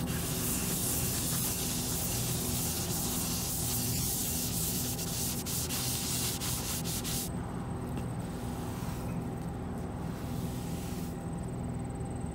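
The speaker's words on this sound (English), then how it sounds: "all I've got is one of these green scrubby sponges" A green scrubby sponge rubs wet faded decals on a classic RV, making a continuous close, hissy scrubbing sound with rapid back-and-forth strokes that eases into lighter rubbing toward the end.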